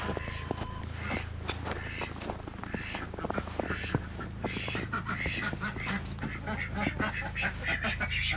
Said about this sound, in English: Ducks are upset because their pond is frozen.